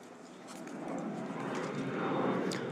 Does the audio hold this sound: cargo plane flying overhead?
yes